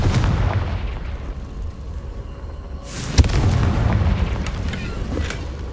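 Blasting-spell explosions in the Hogwarts Legacy video game, a rumbling battle bed with a sharp booming burst near the middle followed by continued low crackling and rumble.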